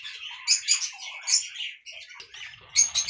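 Budgerigars in breeding cages chirping and twittering up close, a busy run of bright, rapid warbles and short tweets in repeated bursts, with no voices over them.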